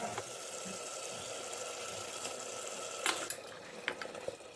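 Washed mutton mince, coated in salt and turmeric, is added to sour yogurt sizzling in a pan, making a steady, hissing simmer with a louder splattering burst as the meat goes in.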